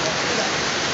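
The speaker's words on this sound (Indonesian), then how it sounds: "Ya ada jatuh. Bisa. Ih hujan es. Hujan es." Hail falls in Palolo, Sigi, Central Sulawesi, a loud, dense and unbroken hiss of countless impacts heard up close for under a second.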